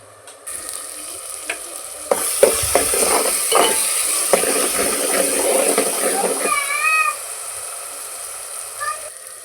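Onions, tomatoes and green chillies frying in a pan, a steady hiss of sizzling oil with a run of quick spoon scrapes and taps as they are stirred, close by, followed by a brief whistle-like tone near the end.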